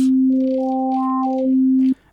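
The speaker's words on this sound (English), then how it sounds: "The raw sound of the init patch is a sine wave" The init patch on a Waldorf Iridium wavetable synthesizer plays a pure, steady sine tone for about two seconds. Brief higher notes layer over it, and it cuts off abruptly.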